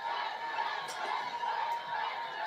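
A dense roadside crowd at a cycling race, a steady wash of chatter and scattered cheering from many spectators, moderately loud and continuous.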